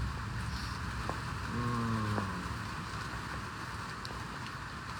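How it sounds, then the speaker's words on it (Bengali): Steady rain falls in Banasree, Dhaka, a continuous broadband hiss of drops on surfaces at moderate level, with a few faint tonal sounds briefly rising in the background. "ঢাকা বনশ্রীতে বৃষ্টি হচ্ছে"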